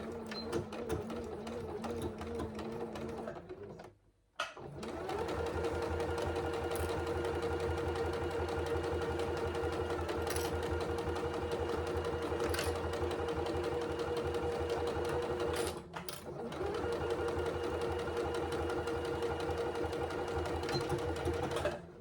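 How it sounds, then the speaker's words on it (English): Sewing machine stitching along the top edge of a fabric zip pouch, a steady fast mechanical whirring run that stops briefly twice before resuming, close and clear. "we're going to just stitch along this top edge at a 3/8 of an inch seam allowance."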